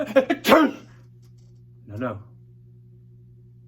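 A storyteller imitates a woman's sneeze at a family reunion photo with one sharp, close burst, followed by a softer vocal sound and a brief spoken word.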